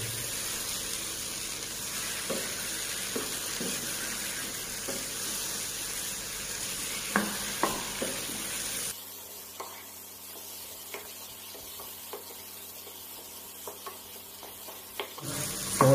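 Sausage frying in a pan while being stirred, a steady low sizzle with scattered scraping and tapping of the utensil, with the background hiss dropping partway through.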